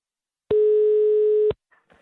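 A telephone dial tone sounds as a call is placed, one clean steady tone lasting about a second, followed by faint small clicks.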